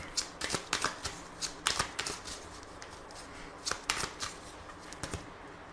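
Lenormand cards being shuffled and cut by hand, a series of quick, crisp riffling bursts in short clusters, close and fairly quiet, with no talking.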